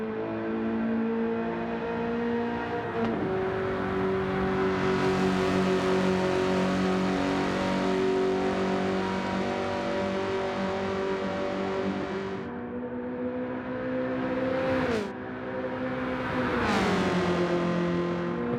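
A race car in a racing video game holds a loud, steady engine note, with pitch drops as it shifts gears and brakes, then revs climbing again; no talking.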